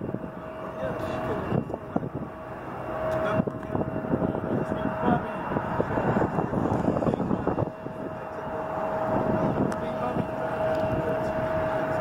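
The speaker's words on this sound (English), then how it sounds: "the other plane that's coming in has to go first" An airplane lands on an airport runway, its engines a steady broad roar with a droning whine held throughout, buffeted by wind on the microphone and heard at moderate distance.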